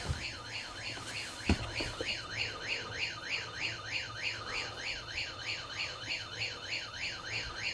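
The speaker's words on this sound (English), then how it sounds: "We know that you're experimenting with the motion sensor." A motion sensor alarm sounds in an attic, giving a steady, rapidly warbling electronic tone that repeats without a break. A single sharp knock is heard early on over a faint background hum.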